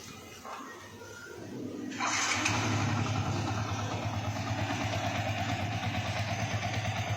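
A rebuilt Yamaha Vixion motorcycle engine cranks over and catches, then settles into a steady, fairly loud idle with an even rhythmic chug close by, continuing alone to the end.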